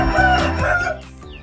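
A sick chicken with a snoring respiratory illness and a blocked crop crows loudly and close by, a single strained, hoarse crow that trails off within about a second and a half, with no talking.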